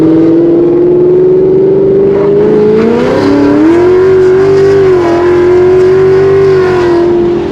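Ford Mustang S550 with an E85 tune and headers, heard from inside with the windows up: a loud, smooth engine drone climbing in pitch as it accelerates, with a brief dip and shift before pulling steadily again.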